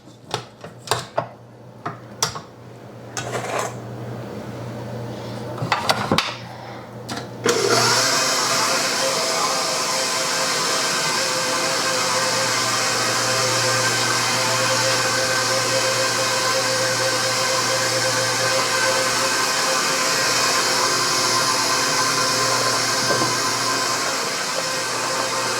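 Stand mixer with paddle attachment beating a meatball mixture of minced meat, onion and egg, a few clunks and clicks at first, then a steady loud motor whir running continuously to the end.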